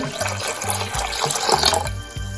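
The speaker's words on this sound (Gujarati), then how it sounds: "થોડોક હજી અડધો ગ્લાસ જેટલું પાણી એડ કરીશું" Water runs and splashes into a pot of dal for dal dhokli for a couple of seconds, a close, gurgling pour with a faint low hum underneath.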